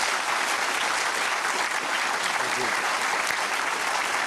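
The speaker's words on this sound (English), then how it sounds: "could I just ask for a round of applause for Charles and for Don" A seated audience gives a sustained, dense round of applause for actor Charles Dance and filmmaker Don Boyd after an in-conversation event, loud and even throughout.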